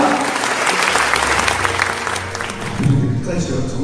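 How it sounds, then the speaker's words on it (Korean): Enthusiastic audience at an education forum gives vigorous, dense applause, loud and continuous, with a voice rising briefly near the end. "우리 모두가 주인공이 한마디로 되는 뜻에서 힘찬 열렬한 박수로 제 인사를 나눠보려고 합니다"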